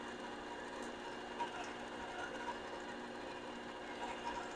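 A 1960 Cincinnati Toolmaster 1B vertical knee mill runs with a steady whirring mechanical drone, even and continuous, with faint light rattles coming from the belt drive.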